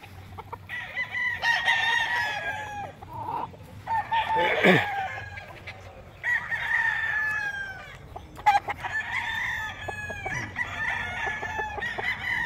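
Several Sweater gamefowl roosters crow in repeated calls at a breeding farm in Tagaytay City, near and fairly loud, with clucking between crows and a distant rooster answering.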